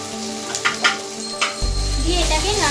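A spatula clinks and scrapes in a pan, then ground cumin, coriander and turmeric hit hot oil with a steady, loud sizzle while cooking an egg curry.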